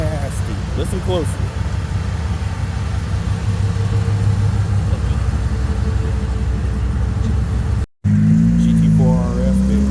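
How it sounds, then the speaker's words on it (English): A Chevrolet Bel Air's engine runs loud and steady at a classic car meet, with a deep continuous rumble that briefly cuts out and then returns louder. People talk over it and other cars are heard nearby. "This Bel Air sounds nasty."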